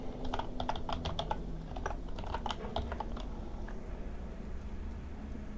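Code being typed on a computer keyboard, with quick clusters of crisp key clicks coming in uneven bursts and then pausing, close up and clear over a quiet background.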